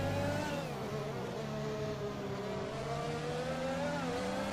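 Race cars in the F1 2021 video game whine past one another, a steady high engine drone with rising and falling pitch as they jostle for position, with no talk.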